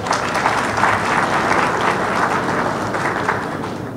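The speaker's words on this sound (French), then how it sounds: "applaudissez s'il vous plaît." A roomful of people applauding at a French political gathering, broad continuous clapping at an even, fairly loud level that swells and eases slightly without stopping.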